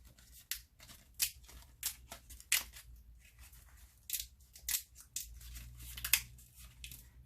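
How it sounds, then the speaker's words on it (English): Infusible ink transfer sheet bent by hand to crack it, giving a string of sharp, separate crackles and snaps in irregular bursts, close and fairly quiet, with no talk. "You literally will hear cracking and snapping and popping sounds"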